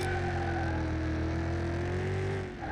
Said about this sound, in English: Oh, that's a very slow rev.